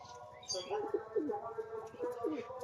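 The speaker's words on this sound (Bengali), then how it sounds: "এই যে পায়রা ডাক করছে দেখুন বন্ধুরা" Pigeons in a cage coo repeatedly nearby, soft throaty rolling calls in a loose rhythm, with faint chirps and background rustling.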